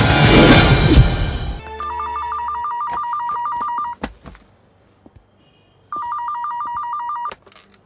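A landline telephone rings in two loud electronic bursts of rapid trilling, separated by a short pause with a few clicks and knocks, after a brief burst of louder noise at the start.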